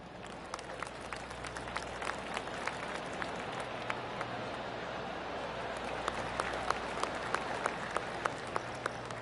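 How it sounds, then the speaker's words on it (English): Golf crowd applause from the PGA Tour 2K25 video game, a soft, steady patter of polite claps spread around the course, fairly distant and low in level, with sharper individual claps standing out now and then. "Oh, I can hear the golf claps around the course."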